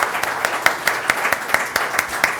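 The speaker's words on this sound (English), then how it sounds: "I will ask you please to give a round of applause to our panelists." A small audience claps for panelists at the close of a carbon-projects technology conference session, a brief, fairly sparse burst of hand claps with a steady rhythm that stays even in level from start to finish.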